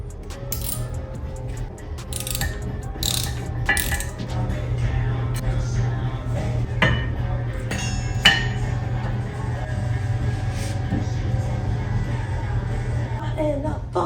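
Bolts on a Dodge Challenger brake install being tightened with a clicking ratchet and metal clinks, heard against a steady hum, while people talk nearby.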